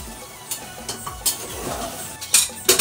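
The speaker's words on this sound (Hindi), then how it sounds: "अब चिकन मसाला को पहले अच्छे से मिक्स कर लेते हैं" Chicken masala being stirred into chicken in a pressure cooker, with scraping and clinking of a spoon against the metal pot in irregular strokes over a low sizzle.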